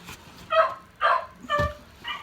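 A dog barks four times indoors, close and loud, short yelping barks with brief pauses between them.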